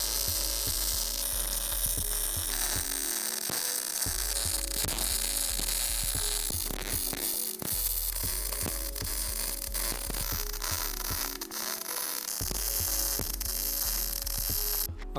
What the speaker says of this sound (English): go ahead and weld up all that stuff in there